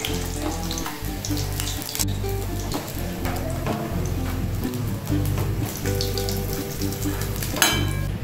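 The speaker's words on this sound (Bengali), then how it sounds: "যে আরও 3টে আছে সেগুলো ভেজে নেব।" Fish fries in hot oil with a loud, continuous, dense sizzle and crackle, close up and steady throughout, with no talk.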